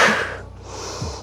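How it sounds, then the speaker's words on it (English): A short, breathy exhale during yoga side pulses, a soft airy gust that fades within a fraction of a second, followed by a faint low breath sound, close and alone. "Sometimes people do audible exhales."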